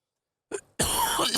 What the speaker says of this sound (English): Cough break here.